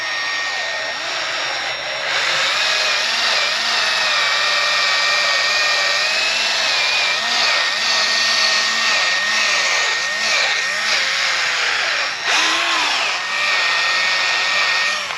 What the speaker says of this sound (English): You can use the side of the buffer here to get up in the rig.